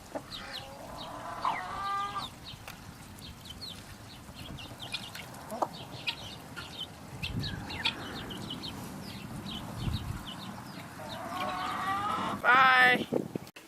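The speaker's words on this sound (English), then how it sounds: "here are our kookamarans that are 9 weeks old, and the turkeys are 8 weeks old" Nine-week-old Cuckoo Maran chickens and eight-week-old turkeys clucking and chirping in a farm pen, a steady scatter of calls with louder bursts near the start and end, under low background rumble.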